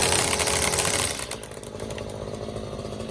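A STIHL AutoCut 25-2 string trimmer head spinning on a running trimmer engine, a loud steady buzzing whine that drops a step in level about a third of the way through and carries on alone.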